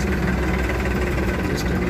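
A Powertrac Euro 50 tractor, a 50 HP machine, idles with a steady, close, even engine rumble and slight vibration, and no talking.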